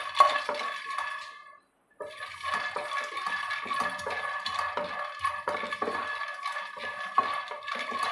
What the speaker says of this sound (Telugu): కడాయి వేడైనాక 2 టేబుల్ స్పూన్లని పల్లీలు వేసుకొని తల ఫ్రై చేసుకోవాలి.